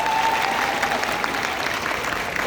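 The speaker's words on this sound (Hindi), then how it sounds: "एक बार जोरदार तालियां बजाएंगे" Loud, dense applause from an audience at the Shravasti Mahotsav 2024 cultural festival, steady throughout with a faint crowd murmur beneath.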